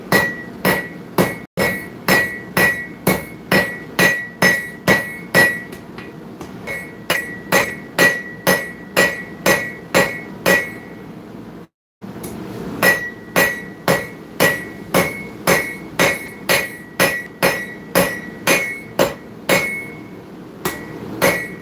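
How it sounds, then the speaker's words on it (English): Hammer forging double-bladed dagger blades in a workshop, rapid rhythmic ringing metal blows, close and loud, in steady runs with brief pauses between series. "let's go ahead and start forging this out"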